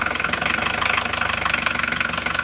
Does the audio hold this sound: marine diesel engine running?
yes